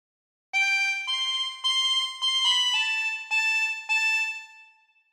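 A harmonica plays phrase 13 of the Star Spangled Banner, a short run of clear sustained reedy notes stepping in pitch, each breath-attacked, close and alone with no talking.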